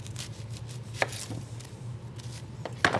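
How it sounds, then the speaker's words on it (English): A knife cuts through an onion on a board, giving a few faint, scattered chopping taps over a steady low hum. "1 onion, and then you cut it so"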